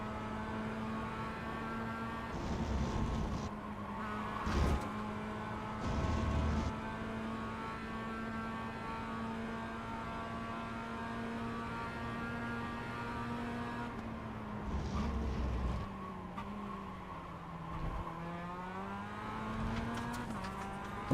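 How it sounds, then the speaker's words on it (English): Race car engine in the iRacing sim holding a steady drone, with several brief sharp bursts as the driver downshifts to second gear without a blip, pitch dropping and recovering near the end; no talking. "I keep downshifting to second without a blip."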